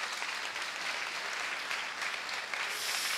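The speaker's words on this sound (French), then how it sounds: "Bravo Anna, on vous applaudit." An audience at a fashion designer show and jury presentation applauds, a dense, steady clatter of many hands clapping throughout, close and even.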